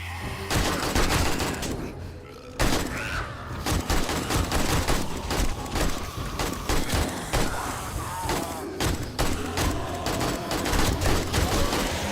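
Continuous bursts of rapid automatic AK-47 assault rifle fire in a video game, loud and dense with short pauses, the shots cracking in fast repeated volleys.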